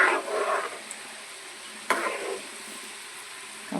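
Urad dal tempering fries in a large quantity of hot oil for an Andhra tomato pickle, with two short bursts of crackling sizzle, one at the start and one midway, then a faint steady hiss.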